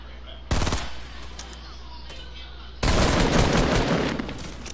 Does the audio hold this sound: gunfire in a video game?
yes